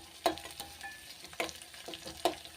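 Garlic stirred in a hot pan for ridge gourd (beerakaya) curry, with a low steady sizzle under three distinct scraping stir strokes spaced about a second apart, close and fairly quiet.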